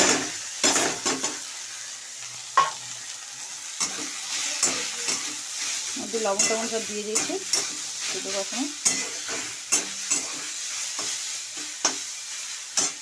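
Boiled kalmi greens fry in a pan with onion and dried chilli, a soft sizzle under repeated scraping and clattering spatula strokes, while someone speaks at intervals.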